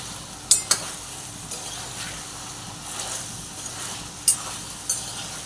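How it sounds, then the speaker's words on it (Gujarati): Cluster beans and potatoes sauté in hot oil, a low steady sizzle broken by a few sharp clinks of a spoon against the pan as the mixture is stirred, close and fairly quiet. "આ તેલમાં સંતળાવા દઈશું આપણે ગુવાર બટેકાને।"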